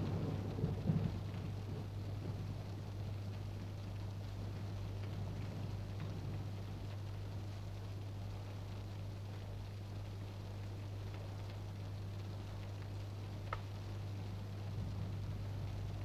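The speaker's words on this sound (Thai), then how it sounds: "เข้าหน้าฝนอีกแล้ว" Steady heavy rain falls with a constant low rumble of distant thunder underneath, continuous and even throughout with no voices.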